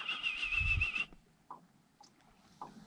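A person whistles a fish whistle at a trout lake opener: one loud, steady high whistle for about a second, then quiet with a few faint short chirps.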